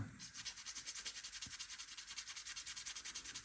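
Quick, rhythmic back-and-forth scratching of sandpaper sanding the edge of a giant pumpkin seed, close up and steady, about five strokes per second with no talking.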